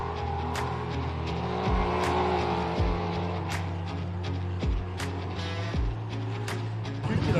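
Off-road racing cars at the Gundy 500 roar past one after another, engines droning loudly with pitch sweeps as each goes by, several repeated passes under a steady engine wash.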